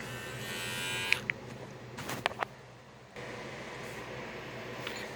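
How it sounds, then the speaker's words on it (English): Low, steady electric buzzing of a Manscaped Lawn Mower 3.0 body hair trimmer used on legs, fairly faint, with a few sharp clicks and handling noises over it. "I'm gonna show it on camera to see how okay is the shaver on my legs"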